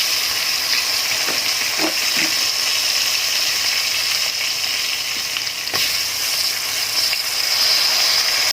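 Basmati rice stir-fried in a hot pan with fragrant spices gives off a steady, close sizzle, broken by occasional sharp scrapes and clicks from the stirring spoon, with no talking.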